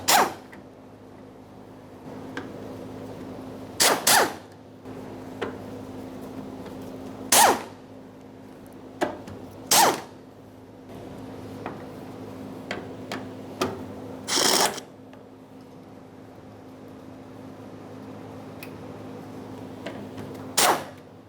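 Ratcheting and clicking of a wrench loosening the 10 mm fuel pump mounting nuts on a 1994-1997 Honda Accord, sharp bursts scattered over a quiet steady hum, some paired or clustered, close by.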